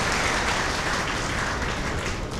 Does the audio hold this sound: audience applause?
yes